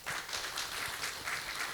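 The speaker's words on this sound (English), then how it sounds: "So give him a round of applause." Audience applause at a residential refresher course on RERA and housing society management, a brief patter of clapping from a room full of people, steady and moderately soft.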